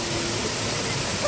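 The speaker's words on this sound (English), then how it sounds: "I highly recommend that you visit the Seven Sister Waterfall." The Seven Sisters Waterfall in Grenada roars as a steady, dense rush of falling water, close and continuous, with no breaks.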